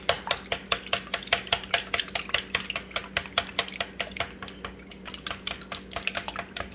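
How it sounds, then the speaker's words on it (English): Chopsticks whisk eggs in a bowl for a griddle breakfast, a quick steady run of sharp clicking taps against the bowl, close and distinct with no talk. "That's how you mix them, with the chopsticks"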